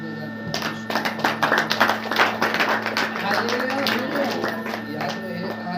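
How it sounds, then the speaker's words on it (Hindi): A church congregation at a Saturday prayer meeting claps together, a dense burst of many hands that swells and then settles into a steady patter, with a voice speaking over it throughout. "एक बार फिर से ताली बजाकर"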